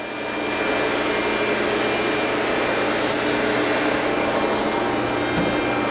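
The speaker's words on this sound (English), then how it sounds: "Lubrication pump, hydraulic pump here on the floor." Lubrication and hydraulic pumps on the floor beside a machine tool run with a loud, steady, close whirring hum, unbroken from start to finish with no talking.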